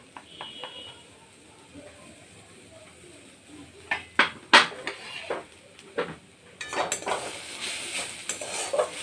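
Beetroot, green peas and roasted spice mix stirred and sautéed in a pan for vegetable chop, quiet at first, then irregular spatula scrapes and metallic clanks over a low sizzle.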